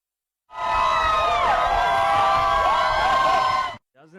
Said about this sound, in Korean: 버지니아주 해변에서 수십 명의 사람들이 박수와 환호로 스케이트보드를 타고 들어오는 브룩 존슨 씨를 맞이합니다